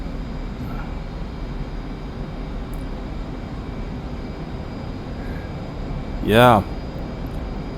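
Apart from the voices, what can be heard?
aircraft engine during takeoff, from a flight video game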